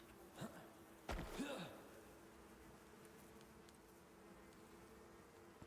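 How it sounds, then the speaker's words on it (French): Bees buzz faintly in a video game, a thin steady droning hum with a couple of brief louder sweeps early on, quiet under low background noise. "Et là, il y a les abeilles là."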